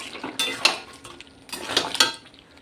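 A cooking pot of chicken curry with amra is lifted off the stove, giving two close clusters of metal clanks and scraping, each a quick series of knocks and rattles.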